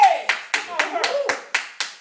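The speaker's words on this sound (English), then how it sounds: "Somebody clap your hands and say yes." A church congregation claps in a quick, fairly even run of about eight sharp hand claps, close and distinct, with a brief voice tone at the start.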